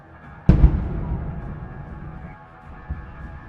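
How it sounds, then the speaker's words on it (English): A HIMARS precision strike on a Russian howitzer: one sudden loud blast followed by a rumbling decay and a smaller thud a few seconds later, heard at a distance with no voices. "were destroyed first by one high-precision strike by HIMARS"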